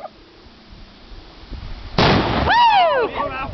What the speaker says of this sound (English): 21 gun salute.